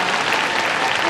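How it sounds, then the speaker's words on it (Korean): An audience at a film festival open talk claps in a dense, even burst of applause that fills the brief moment. "박수 부탁드리겠습니다"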